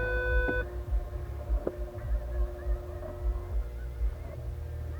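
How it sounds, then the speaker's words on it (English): Inside a 2009 Maserati Quattroporte S, a warning chime rings out at the start, followed by several softer tonal beeps over a low, pulsing cabin hum. "the most common thing that happens is beeps, noises, indications, warnings"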